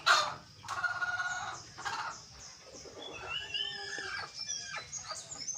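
Hens cluck and squawk close by in a run of uneven, overlapping calls, with no voices.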